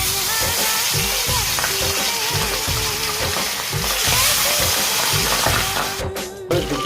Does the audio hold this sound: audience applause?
no